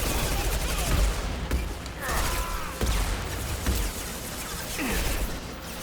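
Gunfire in the video game Mass Effect 2 crackles in repeated bursts over several seconds, mixed with whooshing effects and faint voices.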